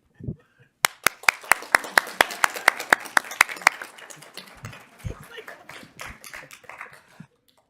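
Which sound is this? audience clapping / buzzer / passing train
audience clapping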